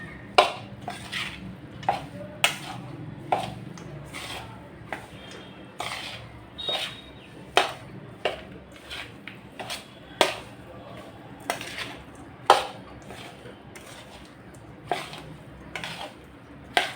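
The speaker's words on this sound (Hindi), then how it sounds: "अब इसे एक बार अच्छे से एक बार मिक्स कर देते हैं, गुड़ को और इस मिश्रण को।" A spoon stirs and scrapes jaggery into churma laddu mixture in a metal bowl, producing repeated sharp clinks and taps at an irregular rhythm, close and fairly loud over a quiet, soft mixing background.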